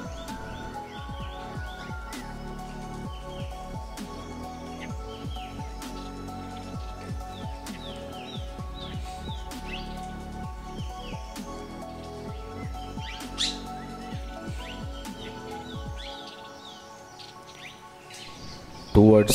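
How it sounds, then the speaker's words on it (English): Grey-winged blackbird calling in jungle near Nainital, with repeated chirps and whistled phrases over a busy backdrop of other birds and forest sounds, fairly close and steady until the chorus thins near the end. "The first bird that I found in Nainital is a grey-winged blackbird."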